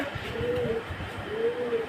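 Domestic pigeons coo in two drawn-out, rising-and-falling calls close by, set against a busy, rumbling background.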